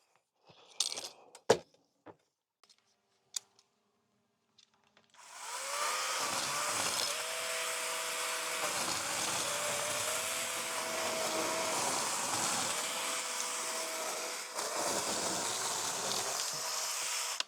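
Cordless 2-in-1 pole saw and mini chainsaw on its long arm setting cutting through thick conifer branches, a steady loud motor whine with the pitch dipping under load, after a few brief knocks and clicks.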